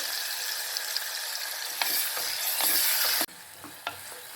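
Small onions and tomatoes sauté in a pan for a village-style dried-fish curry: a steady close sizzle with scraping stirs and clicks of a utensil, dropping quieter near the end, no voices.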